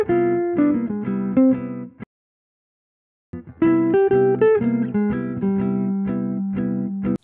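Electric guitar plays a backdoor dominant arpeggio line as a solo phrase, clean sustained single notes in two runs separated by a short silence, close and alone with no talking.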